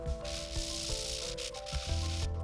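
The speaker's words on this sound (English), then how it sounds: "I had to sand through the back of this piece until the parts broke free" Sandpaper rubs back and forth across the back of a laser-cut piece, a continuous close gritty scraping with rhythmic strokes, steady and fairly loud with no talking.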